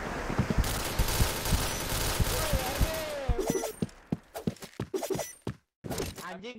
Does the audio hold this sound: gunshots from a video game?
yes